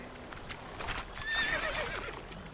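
Roach, a horse in The Witcher video game, gives a clear whinny over the rhythmic clip-clop of galloping hooves, close and fairly loud with no talk.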